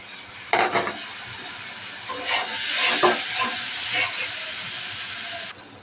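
Chopped onion and dried chillies fry in a pan, a rising hiss with scraping and clinking of a spatula against the pan, close and moderately loud.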